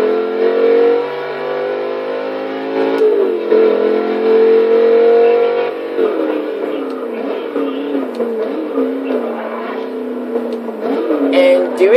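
Chevrolet Camaro engine in first-person view in Forza Motorsport 6, a steady, fairly mild drone that rises and falls through revs and gear changes for about twelve seconds, loud and close with no talk.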